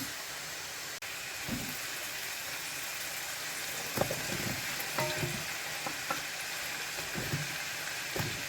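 Potatoes fry with onions in a pan, a soft continuous sizzle with occasional faint utensil clicks and scrapes, fairly quiet and steady, with no talking.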